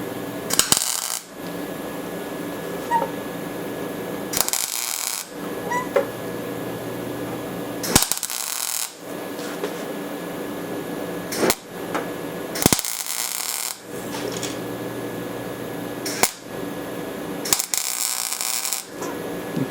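Tack welding on a car's rear quarter panel during door and panel repair: several sharp bursts of arc crackle, each a second or so long, separated by quieter gaps with steady background noise.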